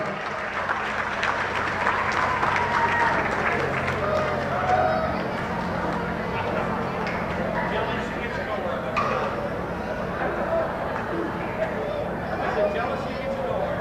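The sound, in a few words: crowd applause at a race track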